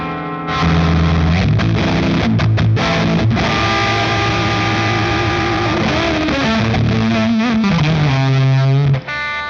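Electric guitar played through a cranked OCE Wrench and ThorpyFX fuzz pedal at full power, a loud, thick, sustained distorted tone with held, sliding notes and a violin-like singing quality, played alone for about nine seconds before cutting off.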